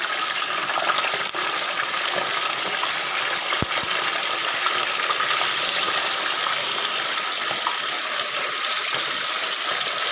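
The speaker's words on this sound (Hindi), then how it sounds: "आपने ये इंतहाई एहतियात के साथ चिकन को ऑयल में डालना है" Chicken pieces going into hot oil in a pan for Peshawari chicken karahi, giving a loud, steady, crackling sizzle that hisses on without pause.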